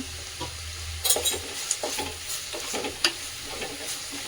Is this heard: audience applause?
no